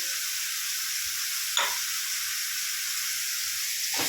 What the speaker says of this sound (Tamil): இதை வந்து நல்லா வதக்கிக்கலாம்.